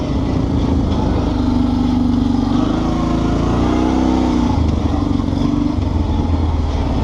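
A Kawasaki Brute Force 650 ATV ridden at an off-road park, its engine droning loud and close throughout with slight shifts in pitch as the throttle varies.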